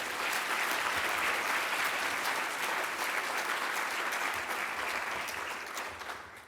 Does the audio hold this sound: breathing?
no